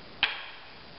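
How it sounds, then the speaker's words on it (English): A single badly played drum flam on a snare comes as one short, sharp stick strike, fairly quiet and close, fading quickly against faint background hiss. "A bad flam sounds like this."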